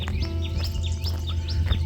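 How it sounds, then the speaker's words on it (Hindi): Birds chirp and tweet in the countryside foothills near Dehradun, with repeated short, bright calls rising over a steady low hum of background noise throughout. "और बैकग्राउंड आवाज़ आ रही होगी आपको चिड़ियों की।"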